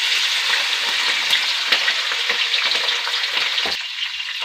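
Ingredients frying in hot oil in a pan for a beef kofta potato gravy, giving a steady bright sizzle up close with small pops and crackles and no voices.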